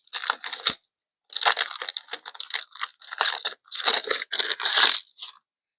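Foil wrappers of Yu-Gi-Oh Soulburning Volcano card packs are torn open and crinkled up close, in loud, crunchy bursts separated by brief pauses, with no talking over them.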